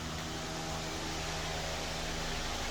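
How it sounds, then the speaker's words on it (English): A greenhouse fan runs steadily with a constant whooshing hiss and low hum, unchanging throughout, with no voices. "Sorry about the fan noise."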